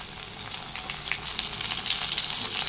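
Steady, close sizzling of onion and tomato frying in a pan, a continuous crackling hiss with small pops and no voices.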